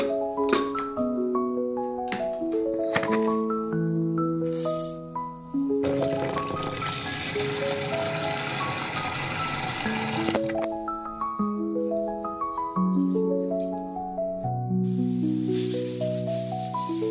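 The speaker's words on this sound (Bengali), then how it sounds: "করতে করতে 3টে সিটি পড়েই গেল, মটরটা না গলে যায়।" A pressure cooker holding salted peas for ghugni lets off a broad, steady jet of hissing steam for about four seconds in the middle, set against melodic background music.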